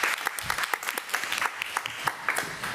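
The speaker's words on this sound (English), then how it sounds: "let's give Ms. Brown another round of applause" Applause for a staff honoree at a school committee meeting, a short burst of scattered claps from a modest room audience, fairly close and unaccompanied by talk.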